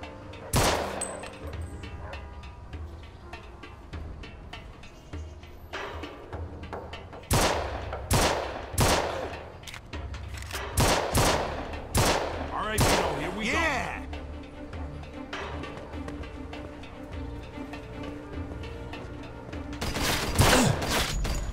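Gunfire in the video game Mafia II: Definitive Edition, bursts of sharp shots in uneven clusters, some rapid volleys, over a low game soundtrack bed.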